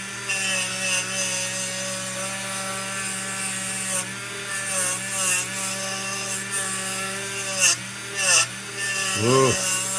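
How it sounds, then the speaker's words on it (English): A Dremel rotary tool whines at high speed while scrubbing rust out of a vintage Dietz Junior lantern, with the pitch wavering and dipping as the wheel bites, close and continuous, with a voice briefly heard. "I can do that right now with the Dremel. Clean that out."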